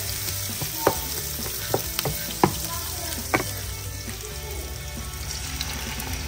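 Chopped onions fry in a pan with shrimp, giving a dense steady sizzle broken by a few sharp clinks and scrapes of stirring early on, close up and with no one speaking.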